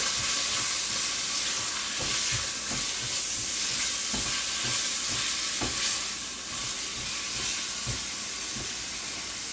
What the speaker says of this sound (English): make sure it's all getting stirred around here so that it's browning nicely but not burning.